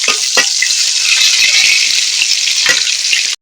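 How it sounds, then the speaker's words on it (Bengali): Catla fish head and pieces frying in hot oil in a pan, a loud continuous crackling sizzle with occasional stirring knocks, ending abruptly. "প্রথমে আমি মাছগুলোকে ভেজে নেবো"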